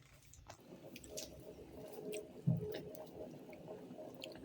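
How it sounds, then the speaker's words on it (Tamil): Masala tea water boiling in a pot on a heater gives faint, close bubbling with soft pops and small splashy bursts over a low simmering hiss. "இப்போ பாருங்க, நல்லா கொதித்து அவிஞ்சு கொண்டு இருக்குது."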